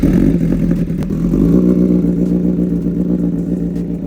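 An MV Agusta Brutale 1000RR Nurburgring Edition motorcycle fitted with a race ECU idles loudly up close, a rough, throbbing engine running steadily with mechanical clatter.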